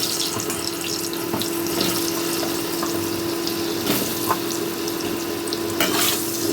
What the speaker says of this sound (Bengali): এই আলুটাকে আমি একটু ভেজে নেব